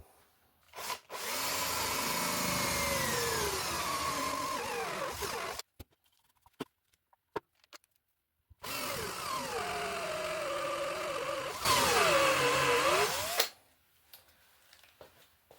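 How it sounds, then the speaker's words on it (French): Cordless Bosch drill boring through a wooden bass guitar body to seat a ferrule, two loud whirring bursts with rising and falling motor pitch, separated by quiet handling clicks, the second burst ending abruptly. "je vais venir percer l'épaisseur de la ferrule pour l'encastrer dans le bois"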